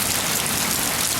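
Heavy rain pours down in Texas, a loud, dense, unbroken roar of drops hitting surfaces nearby, with no voices present.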